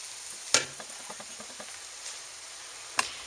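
A Norwegian casserole in a wok sizzles faintly while being stirred, with two sharp clanks of utensil or lid on the pan and soft scraping taps between them, close and quiet.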